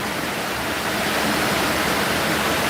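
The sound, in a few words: heavy rain on the roof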